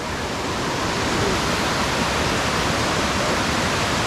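A waterfall at Mae Kampong village pours with a steady, dense rushing roar that stays constant and unbroken throughout.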